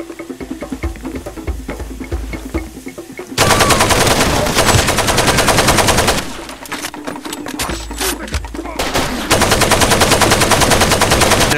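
A rusty AK rifle in Far Cry 2 fires long, loud, rapid automatic bursts, close and harsh, broken by a short gap before the firing resumes.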